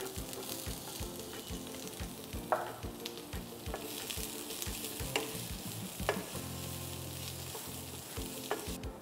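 Onion sautéing with cinnamon sticks and cloves in a pan for a vegetable stew, a steady close sizzle broken by repeated scraping stirs at an even rhythm.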